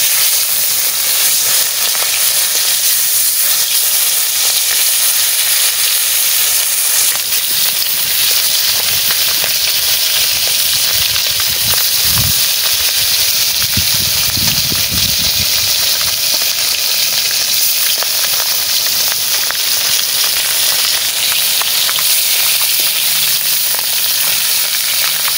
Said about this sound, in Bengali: মাছ দেখো এরকম করে লাল লাল করে ভেজে নিচ্ছি।